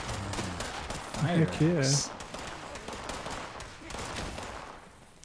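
Super mutants fire guns during Fallout 76 gameplay: scattered, fairly quiet shots pop in the background while someone talks and exclaims over them.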